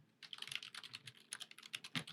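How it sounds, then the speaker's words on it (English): Rapid, uneven clatter of a computer keyboard being typed on, many quick keystrokes in bursts, close but fairly quiet with no voices. "like this is what typing sounds like"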